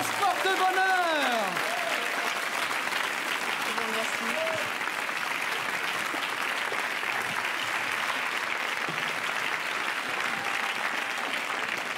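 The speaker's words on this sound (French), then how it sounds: "Annie, vous repartez avec les applaudissements du public." Studio audience at a French television magic show applauds a departing contestant, a long, steady wash of dense clapping lasting many seconds, with a host's voice briefly heard over it at the start.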